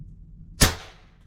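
A single sharp airgun shot fired through a chronograph, loud and close, with a short decaying tail and no talk.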